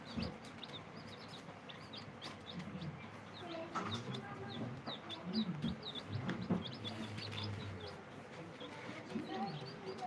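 Colourful pet chicks cheep and cluck continuously, with many soft overlapping peeps and short clucks close by. A faint voice may be heard in the background.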